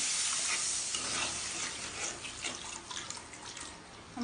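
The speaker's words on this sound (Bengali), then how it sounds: "আমি এখন পানি দিয়ে দিচ্ছি।" Water poured into a pan of spices frying with salt and turmeric for a thin koi fish curry hisses and sizzles loudly, settling into a steady bubbling crackle, close up and without voices.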